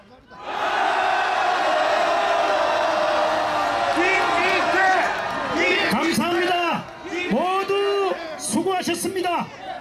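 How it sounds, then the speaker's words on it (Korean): Crowd at a Gyeongnam provincial office protest rally raising a loud sustained shout together, followed by scattered whoops and cheering voices tapering off. "우리의 여지를 모아 힘찬 함성을 지르고 오늘 행사를 마치도록 하겠습니다"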